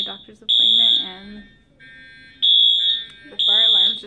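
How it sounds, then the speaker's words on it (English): A fire alarm blares in loud, steady high-pitched tones that come in repeated long pulses with short gaps between them. A person talks under and between the blasts. "the fire alarms just started going off"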